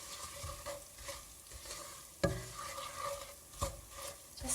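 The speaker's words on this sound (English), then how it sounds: "just casually stir, let it simmer with the oil" Cumin and spices simmer in hot oil in a pan, a soft continuous sizzle broken by scraping stirs and a few sharp utensil knocks against the pan, close and without speech.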